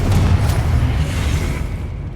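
A Confringo blasting spell in Hogwarts Legacy erupts as one loud, deep booming explosion that rolls and fades over about two seconds, with no voices.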